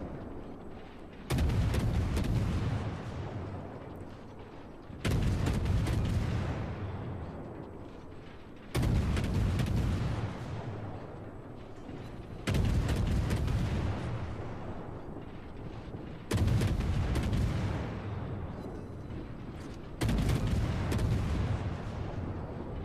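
Salvos from the German destroyer Z52's main guns in World of Warships, six heavy booms at even intervals of about four seconds, each fading out under a rumbling ring.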